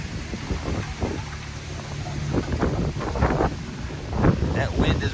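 Strong gusting wind buffets the microphone at an off-road park, roaring and rising in bursts with rumbling surges, close and loud.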